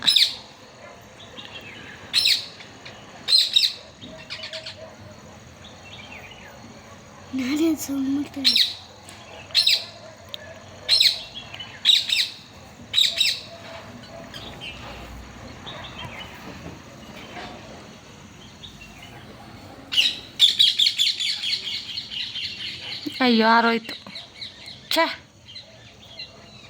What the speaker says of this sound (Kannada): ಸೊ ಹಕ್ಕಿಗಳ ಚಿಲಿಪಿಲಿ ಕಲರವ ಕೇಳಿಕೊಂಡು